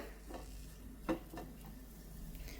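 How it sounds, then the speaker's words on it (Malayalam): Moringa leaves wilting in a little ghee in a pan, a faint soft sizzle with occasional spatula stirs and scrapes against the pan, close by and without talk. "അതുകൊണ്ടാണ് നമ്മൾ ജസ്റ്റ് നെയ്യിൽ ഇതൊന്ന് വാട്ടിയെടുക്കുന്നത്"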